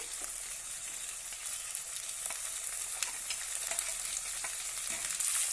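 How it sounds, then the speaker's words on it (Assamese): Marinated goat meat sizzles loudly in a hot pan for an Assamese curry, a dense continuous frying hiss with occasional stirring scrapes, close and uninterrupted by voices. "ইয়াতে দি দিম মই ছাগলী মাংসখিনি।"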